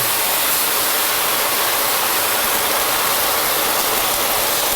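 Friulano wine hitting a hot pan of clams, a loud, steady, broadband sizzle hissing evenly throughout, close and unbroken.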